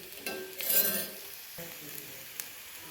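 Onions frying until brown in a pan for a palak paneer paratha filling, a soft steady sizzle with a brief louder stir and a few light clinks of utensil on pan.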